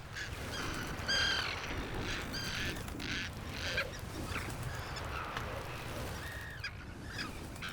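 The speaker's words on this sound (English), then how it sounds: "Arctic terns are prickly foes." Arctic terns defending their eggs, harsh repeated calls from several birds overlapping outdoors over a constant wind-like rush, some near and some farther off.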